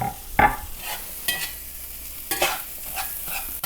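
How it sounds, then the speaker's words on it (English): Eggs being broken up and stirred on a griddle alongside brats for cheddar breakfast burritos, with scraping and stirring strokes over a soft background sizzle and a few sharper spatula clicks. "We're gonna break up those eggs. Just get everything nice and evenly mixed up."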